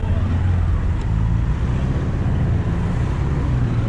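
Busy street traffic in a large town square in Cox's Bazar, with cycle rickshaws and tuk-tuks making a continuous dense rumble of engines and road noise, buffeted by wind on the microphone.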